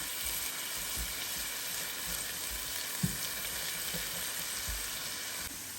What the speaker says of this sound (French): Et je viens rajouter ici à mes échalotes et à l'ail. Et je fais revenir le tout.